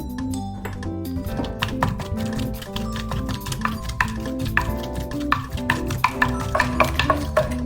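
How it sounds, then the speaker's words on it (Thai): Saba fish flesh pounded with chilies in a stone mortar for Thai nam prik, a steady run of dull, repeated thuds and knocks, close and moderately loud, with faint background music beneath. "หลังจากที่เราตำพริกได้ที่แล้วเนาะก็ใส่เนื้อปลาลงไปเลยนะคะ าไปโขลกนะคะ"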